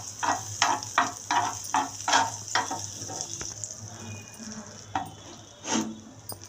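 Bread roasting in butter on a hot dosa tawa, with a soft continuous sizzle broken by a series of sharp scraping and tapping stirs, fairly quiet and without talk.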